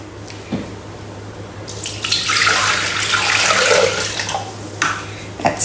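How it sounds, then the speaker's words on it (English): Water running from a kitchen tap into a bowl for cooking, a brief trickle that opens into a strong, rushing stream lasting a few seconds before easing off with small splashes. "So we're going to start cooking, and we need some water."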